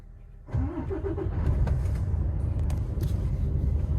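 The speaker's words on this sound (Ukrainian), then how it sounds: "запускаємо двигун." A refrigerated truck's diesel engine starting on a weak battery: quiet before, then a sluggish crank that catches into a deep, steady rumbling idle, close and loud.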